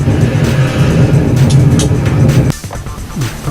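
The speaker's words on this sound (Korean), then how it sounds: "70dB 이상의 도로소음을 5분간 듣는 동안" Loud road traffic noise above 70 dB, a steady roar of passing vehicles that drops suddenly near the end to a quieter rumble with faint distant traffic.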